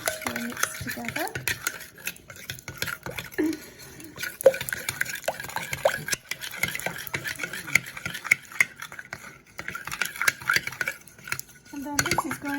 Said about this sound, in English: just give it a stir around. And you can see that the icing and the lemon juice will mix together